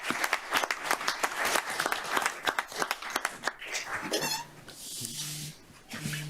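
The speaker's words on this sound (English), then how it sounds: "Let's give her a round of applause." Applause from a county council meeting audience, a burst of hand claps that thins out partway through, followed by quieter room sounds.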